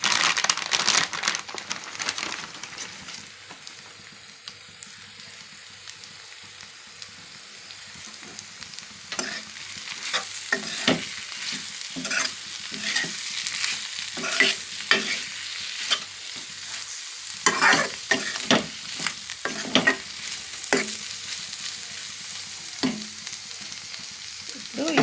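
Garlic and coriander frying in ghee for a ghee chicken with cashews: a continuous crackling sizzle with repeated scraping stirs of a spatula, close, with bursts of stirring later on and no voices.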